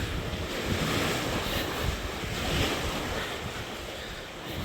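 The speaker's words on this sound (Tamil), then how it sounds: "நல்ல காற்று அடிக்குது" Strong wind roars steadily across the microphone at the beach, a continuous gusting rush with no voices.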